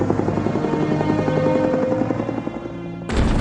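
American military helicopters taking off in the Vietnam War, Khe Sanh, 1971, a loud steady rotor drone with layered engine tones that thins briefly before a sudden burst of broadband noise near the end, with no speech.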